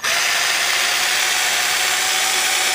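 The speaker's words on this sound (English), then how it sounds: "We'll just put this on our regular cordless drill, and we'll get this down into our kettle." A regular cordless drill spins a stirring attachment in a brewing kettle of beer wort to build a whirlpool, giving a steady, loud motor whine that runs unbroken for the whole stretch.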